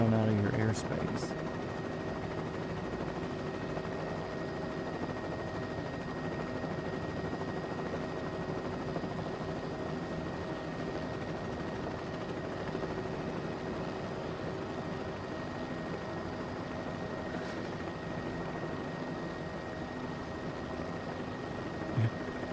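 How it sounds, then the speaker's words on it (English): Helicopter flying a flyby and circle over a small air museum, a steady droning rotor and engine roar held at an even level throughout, with radio-style talk over it. "We're about 10 miles to your northeast, inbound to do a flyby and circle of your little air museum"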